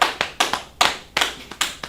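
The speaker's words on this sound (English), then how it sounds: "Clap it up for class, first of all, right?" Students in a class clapping in a loose, uneven rhythm, about eight or nine sharp, close hand claps spread over two seconds.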